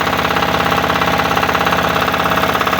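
Walk-behind tractor (motoblock) engine running steadily up close, a loud continuous rapid chugging throb with dense mechanical knocking, with no voices over it.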